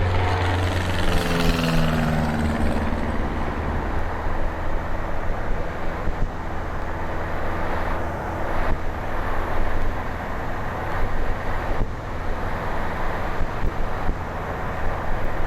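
Light aircraft engine climbing steadily after takeoff with flaps retracted, a loud continuous drone with broadband wind-like roar, holding near and constant throughout with no speech.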